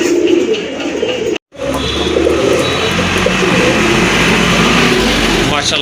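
Pigeons offered for sale, including an Andalusian-coloured pair, coo in soft repeated throaty murmurs close by, with a steady background of traffic and engine noise and a brief dropout early on.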